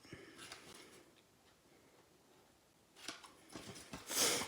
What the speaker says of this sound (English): Pretty much we're going to cut all these lines up